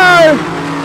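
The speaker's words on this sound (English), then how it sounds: "In E2, Parker takes over the lead." Modified sedans race at Kingaroy Speedway, a loud engine note sweeping downward in pitch as a car passes close by, then a steady engine drone carrying on for under a second.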